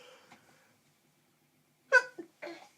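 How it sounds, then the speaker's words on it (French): A single sharp sneeze bursts out after a stretch of near silence, followed by a short breathy sound. "Je vais éternuer."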